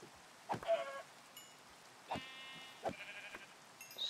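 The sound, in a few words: sheep bleating in Minecraft video game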